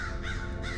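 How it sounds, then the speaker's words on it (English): Crows caw harshly and close together in a hardwood thicket in Indiana, a loud, dense burst of two overlapping calls from a flock mobbing an owl. "Probably 40 crows ganged up on one owl."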